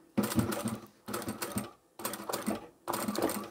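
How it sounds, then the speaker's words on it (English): A sewing machine stitches a quilted bag in four short runs. Each run is a rapid mechanical whir of stitches, close and fairly loud, and brief pauses separate the runs. "once you've stitched over that fold, you can go back 1 or 2 stitches"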